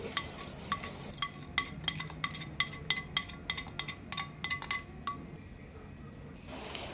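Green chillies and urad dal are pounded in a stone mortar, making a run of sharp, close knocks in an irregular rhythm that stops near the end.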